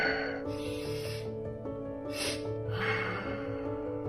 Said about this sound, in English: I breathed in and then I snuck in a little bit more air on a second inhale and then I gave a long exhale